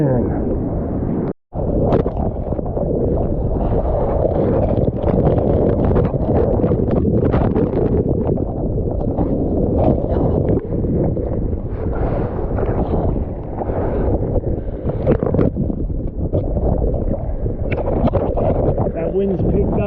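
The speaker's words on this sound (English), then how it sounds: "Wind's picked up big time. Not gale force, but I'd say 30 knots." Strong wind of about 30 knots gusts around a boat, a loud, continuous roar and buffeting on the microphone that barely lets up, with a brief dropout near the start.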